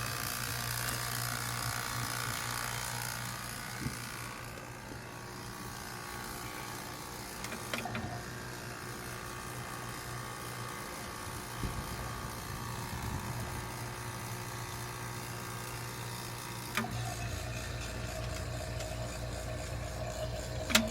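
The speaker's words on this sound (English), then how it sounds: "Vacuum going." HVAC vacuum pump running during an apprentice's system evacuation, a steady continuous mechanical drone with a ratcheting rattle, close and constant throughout, with a few brief clicks and knocks.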